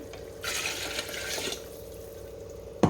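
Water pours steadily into a cooking pot for chicken biryani for about a second, then stops, leaving a quiet background hum.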